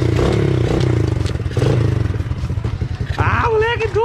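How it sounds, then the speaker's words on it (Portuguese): A motorcycle engine rumbles loudly nearby on a rough sewer-channel track, with clattering and scraping as it moves and a brief shout from a rider near the end. "Nossa senhora, a moto é braba, velho."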